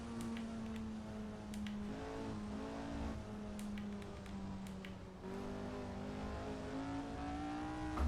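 A Lotus 49 race car in a racing game, set on the classic 1968 Fuji circuit, drones with a steady, sustained engine note whose pitch drops and climbs through several gear shifts, heard alone and fairly quiet.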